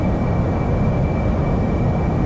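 An AV-8B Harrier jet engine in DCS World pulling up in a high-speed climb near 600 knots, a steady, loud, dense roar filling the whole short stretch without a break.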